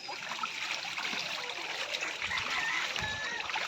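Pekin ducklings bathing in a backyard water tub, with steady light splashing and trickling water, soft and continuous with occasional small slaps at close range.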